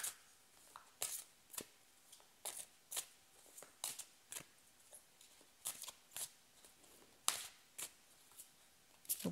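Tarot cards shuffled and drawn by hand, with a steady series of crisp, close riffling and slapping bursts about once a second, nearly alone in a quiet room.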